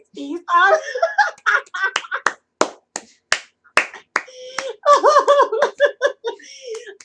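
Sparse, scattered hand claps from one or two people at a small telethon event, sharp isolated smacks falling between and under ongoing close talk.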